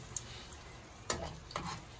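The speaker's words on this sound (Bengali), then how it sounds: "আমি অলিভ অয়েল তেল দিয়ে ভাজতেছি" Mughlai paratha frying in olive oil gives a steady, soft sizzle, broken by a few sharp crackles and pops that stand out near the start, middle and end.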